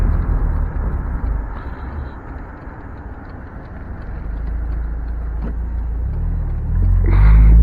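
A Mazda Miata drives along with a steady low engine drone and road rumble from inside the cabin, swelling louder near the end.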